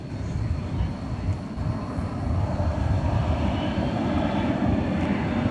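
An MD-11 airliner arriving at DFW Airport on a Saturday night, heard as a steady, broad engine roar that holds at a fairly even loudness throughout, with no talk over it.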